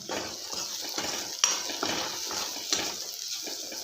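Spices go into a pan of avarekai (field bean) palya, stirred with a spoon: soft repeated scraping and stirring strokes against the pan with light sizzling, close by and fairly quiet.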